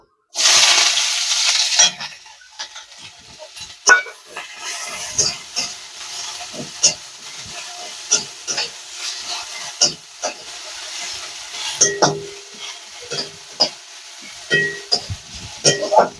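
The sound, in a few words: onion frying in oil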